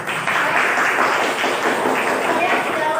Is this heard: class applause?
yes